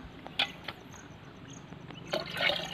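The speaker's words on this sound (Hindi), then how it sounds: "और इसमें पानी डाल दो" Water is poured into a farm sprayer container, with faint drips and splashes that build into a louder, continuous pouring trickle toward the end, outdoors.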